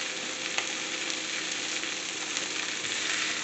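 Chicken pieces browning in a hot pan for a slow-cooker soy-garlic dish, giving a steady, dense sizzle that runs unbroken and fairly close, with only small crackling pops along the way.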